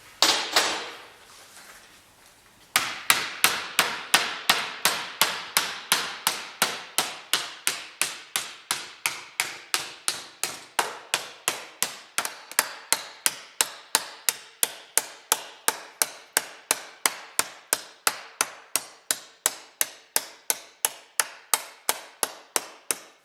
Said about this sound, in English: So I'm using that and just a regular body hammer.